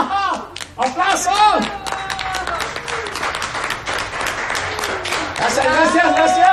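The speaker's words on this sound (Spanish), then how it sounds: "¡Venga! ¡Aplauso!" A crowd at a Santas Alitas restaurant show applauds and claps steadily throughout, with voices calling out and talking over the clapping.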